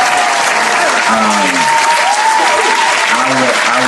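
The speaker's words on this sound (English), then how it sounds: "That's the longest round of applause ever" A canned applause sound effect played on a stream, a loud, continuous wash of crowd clapping held at an even level throughout, with a few voices talking over it.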